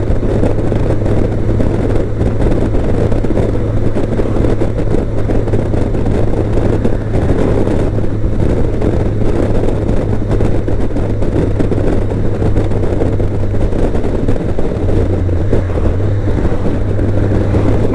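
A BMW K1100LT motorcycle out riding, its engine holding a steady drone with a constant low hum and rushing wind noise throughout, loud and unbroken with no clear gear changes.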